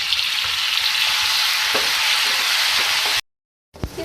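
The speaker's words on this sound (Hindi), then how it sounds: "ये देखिए मैं फ्राई कर रही हूँ।" Green chilies and chili flakes frying in a pan for arvi subzi, a loud continuous hiss with faint spoon knocks, cut by a brief dead silence before the sizzling resumes with a knock.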